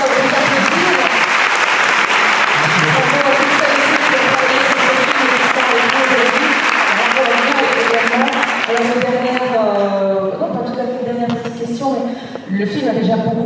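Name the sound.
audience applause at film festival screening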